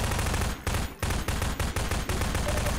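Rapid bursts of automatic gunfire from a Half-Life 2: Episode One firefight against Combine soldiers, loud and dense, with short pauses between volleys under game noise.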